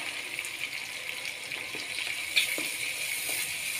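Ground tomato and onion paste sizzles in a hot kadai, giving a steady close hiss with one brief sharper crackle partway through and no talking.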